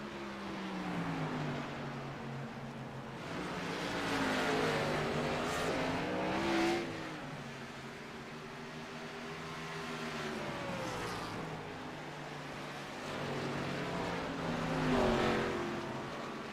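Race cars lap Iowa in a racing video game, with engines rising and falling in pitch as cars accelerate and pass by, a layered, fairly quiet drone of several cars.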